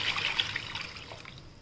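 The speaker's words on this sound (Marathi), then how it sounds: "मिक्सरच्या भांड्यातनं पाणी टाकूया." Water poured from a mixer jar trickles and splashes into a pan of green gram kofta gravy, a short soft steady pour close by with faint background hiss.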